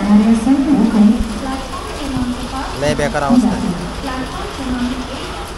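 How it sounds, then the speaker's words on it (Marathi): Heavy rain pours down at Kurla railway station in Mumbai, a steady wash of noise beneath close, loud talk from a person nearby, with the crowded platform surrounding it. "कुर्ल्यामध्ये आता मी आहे आणि पाऊस झाला आहे चालू बघा"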